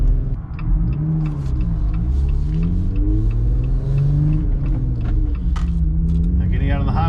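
A Jeep Gladiator Mojave accelerates onto a highway, its engine rising and dropping as it shifts quickly through the first gears, rumbling steadily beneath someone talking over it.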